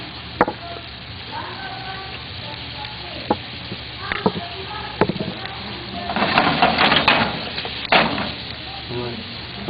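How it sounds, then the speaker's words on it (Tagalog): Crushed garlic and chopped onions sautéing in a pan, a continuous low sizzle broken by utensil clacks and stirring scrapes, swelling into a louder burst of frying noise midway. "Saute the garlic, crushed garlic, then chopped onions."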